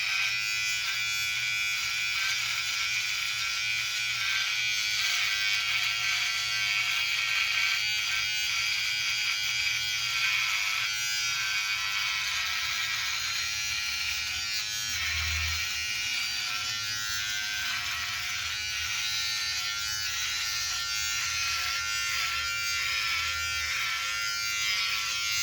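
A Wahl electric shaver with a carbon blade buzzes steadily while shaving, a close, continuous high-pitched hum with slight shifts in tone as it moves over the skin, with no talking.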